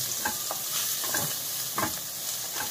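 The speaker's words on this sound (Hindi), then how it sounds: "हम डालेंगे प्याज, दो कटोरी डाले हैं, 2 प्याज डाले हैं।" Two chopped onions sizzle in a hot pan for a moong dal paratha filling, with a spoon scraping and stirring in short rhythmic strokes. The frying hiss is close and continuous.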